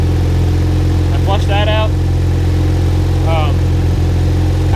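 A 650cc buggy engine runs at a steady, loud idle with a continuous low throb, close up, as someone speaks briefly over it.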